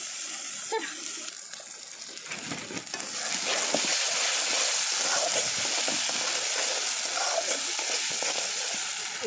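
Fish frying in oil in a pan on a stove for fish besara, a steady close hiss of sizzling that swells after a few seconds and holds, with faint clatter early on and no talk.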